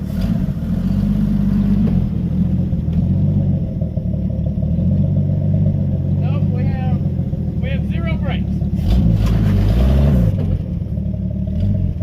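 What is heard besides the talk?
1976 Ford Power House engine running while driving without brakes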